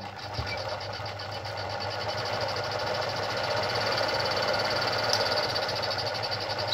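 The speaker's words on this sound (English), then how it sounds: "you place that on the bobbin winder and you just push it to the side" A Veritas Zick-zack sewing machine runs steadily while winding thread onto a bobbin on its bobbin winder, a constant close mechanical hum and whir that slowly builds in level without breaks.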